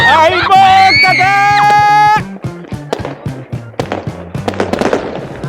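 Outdoor New Year fireworks in snowy Norway: a few seconds of whistling, tonal sound give way to a rapid string of sharp popping and crackling bursts, fairly loud and close.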